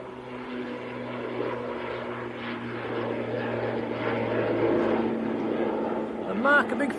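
An Aer Lingus airliner at Manchester Airport in freezing weather, likely bound for Dublin, gives a steady engine roar that swells slightly, heard from a distance with a person talking over it.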